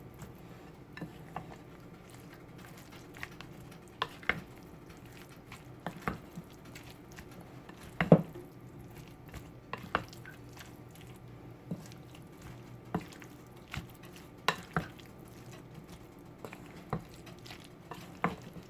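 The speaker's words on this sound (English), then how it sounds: "now I'm going to mix thoroughly" Chunky Jamaican sweet potato salad being mixed in a bowl: soft, wet squishes and light stirring taps come irregularly at a quiet level, with no one talking.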